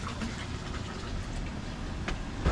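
A Mabru marine air conditioner unit starts up during descaling and runs with a steady, close mechanical rumble and broad hiss, holding even throughout with a faint clunk near the end.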